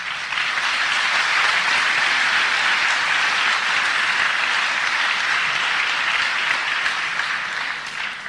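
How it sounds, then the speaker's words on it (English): Sustained audience applause from a crowd at a public speech, loud and steady for about eight seconds with no talking over it before it begins to taper. "it should be me applauding you."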